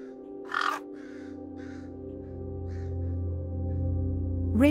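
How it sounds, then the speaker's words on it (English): A raven caws several times in short harsh calls spread across a few seconds, fairly distinct over a low steady hum. "Ravens mate for life, spending their entire lives living in a specific territory."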